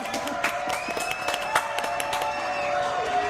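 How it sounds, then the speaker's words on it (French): A television studio audience applauds and cheers for the show's director, a steady wash of clapping with scattered whoops and sharp peaks, continuing throughout. "Applaudissements pour David."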